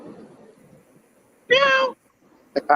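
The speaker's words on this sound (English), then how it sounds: "The cat actually stops and he meows back." One short, clear cat meow rising out of quiet, muffled background talk, with another brief meow starting at the very end.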